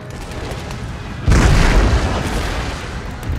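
A single heavy artillery boom from the historical strategy game Empire: Total War during an amphibious battle, a sudden loud blast that lingers and rumbles under a steady battlefield wash.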